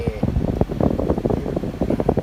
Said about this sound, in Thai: เดี๋ยวเปิดแอร์ครับ นี่มาถึงแอร์เย็นเจี๊ยบเลยนะครับผม